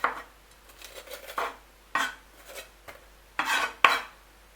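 Peppers are chopped with a knife on a board in a kitchen, making a run of sharp, close chops at an uneven pace, with louder clustered hits near the end.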